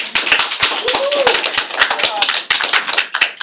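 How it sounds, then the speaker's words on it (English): Audience members clapping at a New York City Housing Authority board meeting after a public speaker, a loud close cluster of sharp uneven claps running throughout, with some voices audible among them. "please keep the clapping to a minimum if we can"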